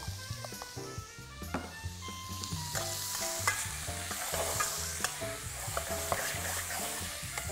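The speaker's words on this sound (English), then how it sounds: "we want to just sear that lamb off till it's lightly coloured and started to just lightly brown" Lamb pieces sear and sizzle in a hot pan, a steady close frying hiss with stirring scrapes as the meat is moved around, and no talk.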